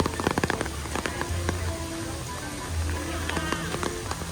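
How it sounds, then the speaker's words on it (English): Steady rain pattering down across a broad, hissing wash at Epcot's Flower and Garden Festival, falling while sunny, with scattered drops and faint crowd sounds in the background. "but it's sunny and raining at the same time."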